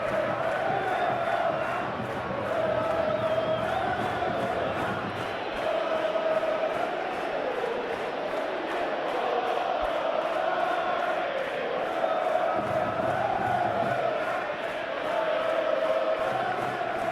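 Simulated stadium crowd at a La Liga match between Atletico Madrid and Barcelona, a steady, dense roar of cheering that rises and falls across the whole span, with no speech over it.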